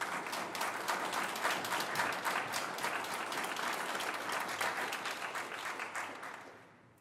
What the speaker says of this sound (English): So what if we do like a little thank you applause?